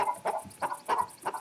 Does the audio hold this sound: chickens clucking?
yes